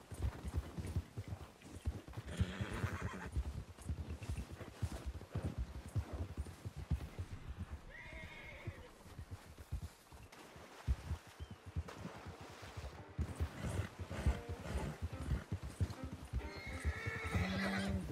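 A horse in the snowy mountains of the video game Red Dead Redemption 2 Online, with repeated neighs and whinnies over a steady clip-clop of hooves, close and moderately loud throughout.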